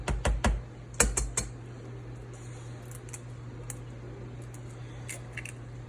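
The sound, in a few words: egg being cracked and separated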